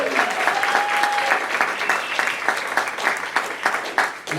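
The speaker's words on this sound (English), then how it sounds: "You can clap." A room of nearly three hundred people claps together in a sustained burst of applause, with a brief whistle early on and the clapping thinning toward the end.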